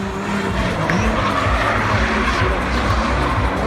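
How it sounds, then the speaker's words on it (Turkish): Drift cars battling at the Apex Drift Masters event in İzmir, loud roaring engines and continuous tire squeal close by, with a commentator's voice partly under the noise. "Yarış başladı. Volkan lider Timur arkadan."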